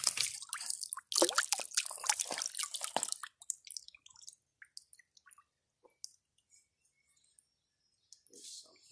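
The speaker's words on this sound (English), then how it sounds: "let's rinse it off and see what it looks like" Water rinsing over a freshly dug fossil outdoors in southern Ohio, with splashing and dripping bursts strongest at the start and then thinning into scattered drips and trickles, a voice murmuring briefly in the background.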